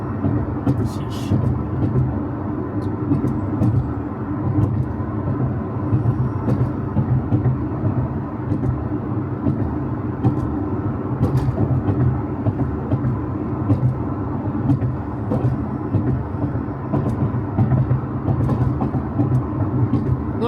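Jaguar S-Type R driving over a bumpy road, heard from inside as a steady low road rumble with repeated thuds and knocks from the uneven surface, loud and continuous.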